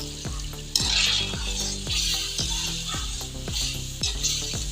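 Duck curry masala frying in a pot while a spoon stirs it, loud continuous sizzling broken by regular scraping, clinking strokes roughly twice a second, close and without speech.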